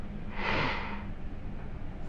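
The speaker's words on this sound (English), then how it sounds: "Sniff." A person takes a single sharp sniff at an odor test pen during a smell sensitivity test, a short close breathy inhale in the middle of an otherwise quiet moment.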